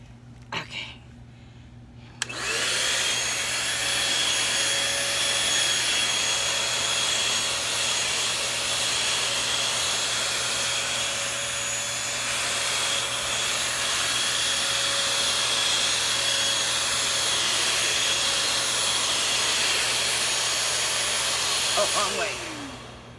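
Vacuum cleaner with a sock stretched over its nozzle, switching on after a moment and running as a loud, steady whine for the rest of the stretch, its pitch shifting slightly, with a brief rattle near the end.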